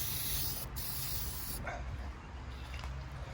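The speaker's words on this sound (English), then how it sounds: "shake it up, and I just spray my terminal" A long hissing aerosol spray burst up close onto a Dodge Ram 2500 5.9L Cummins battery terminal, briefly interrupted, followed by quieter spraying and faint rustling.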